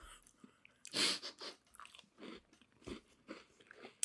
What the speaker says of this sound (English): Very soft crunch.